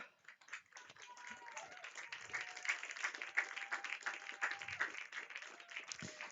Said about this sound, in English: the applause there for Shannon Shook coming off, and for Shababi